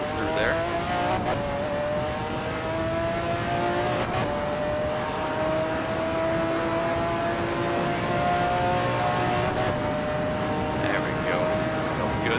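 A McLaren F1 GTR engine in Assetto Corsa drones steadily at high revs, its pitch rising slowly through the gear with a couple of sharp shift breaks, while someone talks over it.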